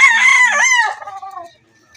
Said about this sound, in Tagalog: Yung alaga nating manok po.